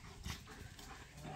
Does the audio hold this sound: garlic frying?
no